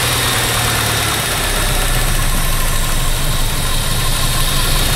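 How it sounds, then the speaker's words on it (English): A Saab car engine idles steadily after running for a long time, a loud, continuous mid-to-low rumble with an even drone and no speech. "We have been idling for about 25 minutes, and I can't get it to go any higher than that."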